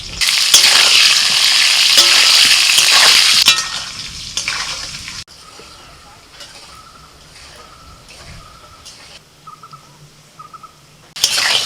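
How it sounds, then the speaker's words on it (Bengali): Potatoes fry loudly in hot oil with turmeric and salt, then quiet to a softer fry with occasional stirring sounds. "আলুগুলো একটু লাল লাল করে ভেজে নিয়েছি"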